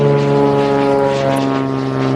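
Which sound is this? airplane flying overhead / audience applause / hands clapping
airplane flying overhead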